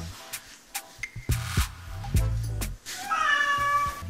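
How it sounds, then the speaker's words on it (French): A cat meows several times close by during a home kettlebell and cardio workout, with short rising and falling meows in an irregular sequence. "il y a Mambo qui miaule"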